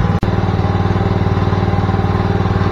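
A grass cutter's small engine runs steadily at close range, a loud, even throbbing drone with a fast regular pulse and one brief dropout near the start.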